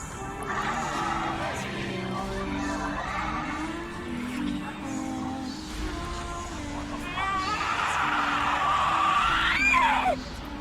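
Screaming in a VRChat horror map game, a high shrill cry rising loudly near the end over continuous game noise and a droning low background, with voices talking throughout.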